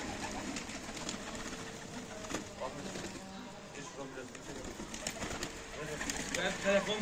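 Adana pigeons being let out at a loft around feeding time, giving soft, steady cooing and fluttering through the whole stretch, with background chatter and a busy outdoor bed of noise.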